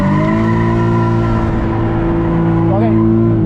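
A car engine holds a loud, steady high rev during a drift practice session, droning close and sustained with a faint tire squeal near the end.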